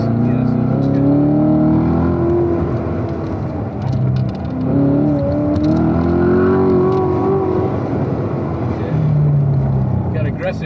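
A car accelerating and lifting through a tight autocross course, its engine note rising and falling steadily and loud throughout, with a voice talking over it.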